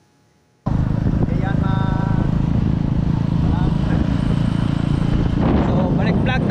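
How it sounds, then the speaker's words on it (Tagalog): A motorcycle being ridden, its engine and wind noise starting abruptly and continuing as a loud, close, buffeting drone with a rough, steady rumble. "nagdadrive ng motor"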